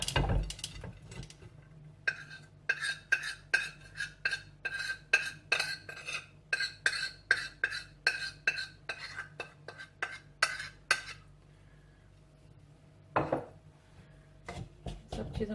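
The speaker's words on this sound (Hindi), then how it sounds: "सबसे पहले इसकी ड्राई चीज़ें इसके अंदर मिक्स कर लेते हैं।" Dry ingredients for a chocolate mug cake are stirred in a mug, a close series of sharp rhythmic taps and scrapes of a spoon that slows and fades, then one last knock near the end.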